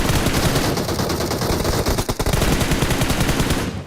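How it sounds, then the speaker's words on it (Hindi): Sustained rapid automatic gunfire from the BGMI battle royale game, loud and close, a dense unbroken burst of shots lasting several seconds with no talking. "वो बंदा वहां से बाहर आके मेरे पे गोली चला रहा है"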